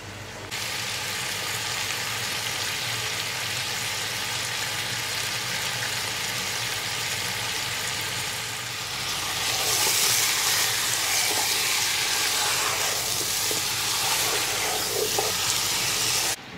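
Chicken frying in a pot for Parsi chicken dhansak, a steady broadband sizzle running continuously and growing a little louder and brighter partway through, with no talk.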